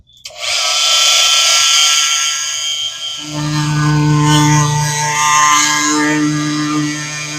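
A loud power tool whines at high speed, then drops into a lower, strained tone as it plunge cuts into wood fascia, cutting steadily close by with no talk.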